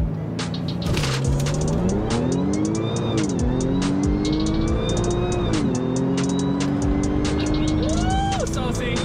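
An Audi B8.5 S4 with traction control off launches hard, its engine note climbing through rising gear pulls with brief shift dips, loud and close throughout, with faint tire noise and a voice speaking over it.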